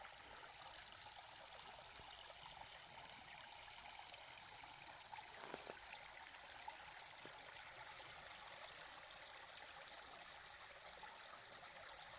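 Lance Creek, a stream on the Appalachian Trail, flows with a constant soft rushing and trickling heard on its own, a steady and fairly faint hiss of moving water.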